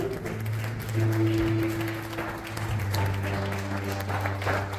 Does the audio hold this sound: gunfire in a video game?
no